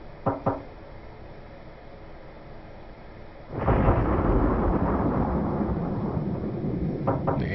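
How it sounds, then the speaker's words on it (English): Thunder in the video game Corpse Party: after two sharp knock-like hits, a loud sudden crack rolls into a sustained rumbling roar that fills the rest of the stretch, with no talk. "You know this is bad because thunder just struck."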